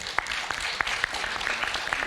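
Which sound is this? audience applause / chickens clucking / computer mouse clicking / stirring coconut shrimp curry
audience applause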